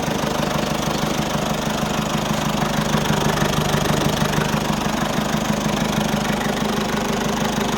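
A Tata Safari SUV engine idles steadily after starting, with a low, even rumble and a faint knocking texture, running continuously without revving.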